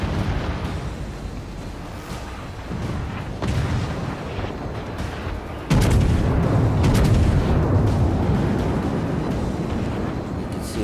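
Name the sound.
naval artillery shells firing in World of Warships video game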